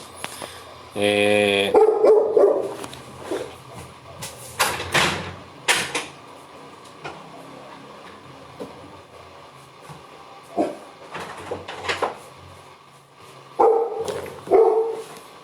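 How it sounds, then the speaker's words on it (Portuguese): A dog barks nearby indoors in scattered bursts of several sharp barks with a few whimpering yips, separated by quieter gaps, while someone talks at times. "o cachorro tá latindo aqui"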